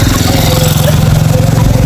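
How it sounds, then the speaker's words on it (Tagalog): A motorcycle goes by on a road, a loud, close engine buzz with a steady throbbing pulse that carries through the whole moment, with a voice faintly mixed in beneath it. "nangingay kasi meron dumaan motor"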